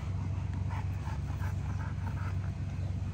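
Large, calm dogs whimper and give short yips and low barks, close by and fairly steady over a constant low background hum.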